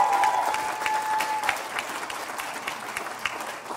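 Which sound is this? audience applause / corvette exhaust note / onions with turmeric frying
audience applause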